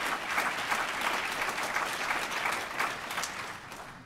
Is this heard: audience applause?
yes